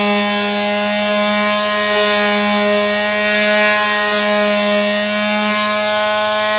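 A power sander fitted with 120-grit sandpaper rounds the corner of a wooden linen cabinet, giving a loud, unbroken motor drone with a steady buzzing pitch that holds close and even throughout.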